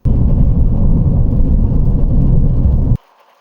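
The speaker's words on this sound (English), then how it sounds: "Let's see what this sort of system would sound like in our electric car." Inside an electric car, a loud, steady low road-and-cabin rumble fills the first three seconds, then cuts off abruptly to near silence as active noise cancellation takes effect.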